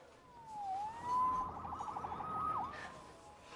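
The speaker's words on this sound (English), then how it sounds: "Saved by the siren." A police siren in the video game Marvel's Spider-Man Remastered wails nearby, its tone sliding up and down and pulsing briefly, rising and falling in loudness over a low background rumble.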